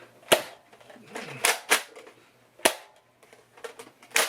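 Nerf Hyper Rush 40 blaster pistols being loaded, a series of sharp plastic clacks and snaps at uneven intervals with rattling handling noise between them, close by.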